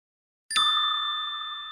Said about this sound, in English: Ring the bell in Chi City.